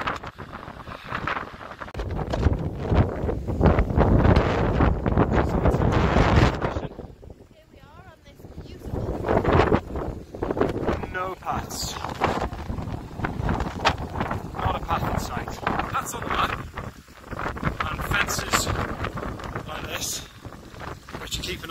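Strong wind buffets the microphone on a wild, wet walk in Wales, heavy gusting roar that swells and drops, easing briefly midway before surging again.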